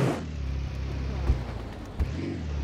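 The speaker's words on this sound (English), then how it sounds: "Just floor it and flood the engine." Boat engine in the Beware video game revving hard, a steady low rumbling drone throughout with two brief thumps partway through, fairly loud and with no talking.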